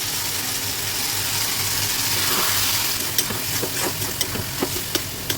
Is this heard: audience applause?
no